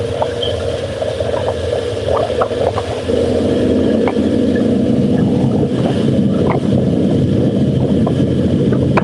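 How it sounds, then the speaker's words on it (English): A steady, droning engine rumble runs throughout, with wind buffeting and scattered small knocks and clicks on top. "How bad is that engine noise?"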